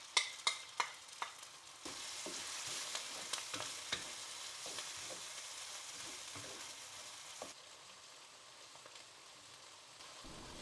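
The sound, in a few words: frying and stirring curry paste with curry leaves and lemongrass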